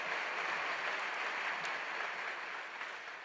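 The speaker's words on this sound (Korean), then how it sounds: "우리 하나님께 영광의 박수 올려드리겠습니다." Church congregation applauding during a Sunday worship service at Yeouido Full Gospel Church, a steady even wash of clapping that fills the whole stretch and tails off slightly at the end, heard from within the hall.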